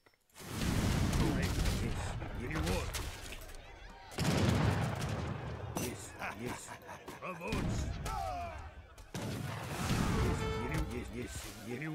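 Rocket volleys in Age of Empires III battle play as loud repeated bursts and thuds, arriving in several waves of dense impacts across the whole stretch.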